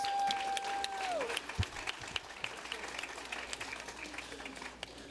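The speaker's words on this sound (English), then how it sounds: "Round of applause for all our honor students." Sustained audience applause at a senior awards night for honor students rolls on steadily, with a voice fading out at the start and scattered sharper claps standing out from the crowd.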